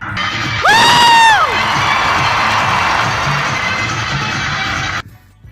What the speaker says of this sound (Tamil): தியேட்டர்லையும் பார்த்தீங்கன்னா சும்மா பயங்கரமான விசில் சத்தங்கள் ஆரவாரங்கள் கைத்தட்டல்கள்